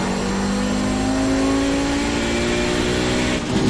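An Audi 90 GTO at full throttle in iRacing screams as a steady, high-revving race engine, its pitch climbing gradually with a brief dip right at the end.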